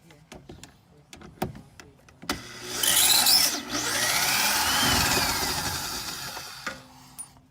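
A power tool whirs in two sustained bursts as it backs out 7mm screws from Jeep Wrangler tow hooks, preceded by several sharp clicks and taps, close and fairly loud.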